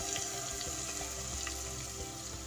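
Ginger-garlic paste frying steadily in a pan for a baingan aloo mutton salan, a continuous close sizzle with faint stirring scrapes and no talking.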